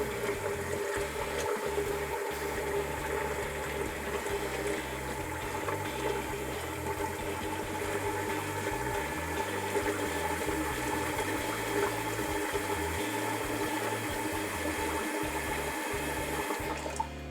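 Hot water runs from a tap in a continuous loud rushing stream, steady throughout with low rumbling underneath, heard alone.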